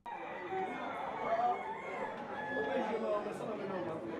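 A fighting-cock breeder's rooster in Guadeloupe crows repeatedly, loud and close, mixed with clucking and background chatter while people talk.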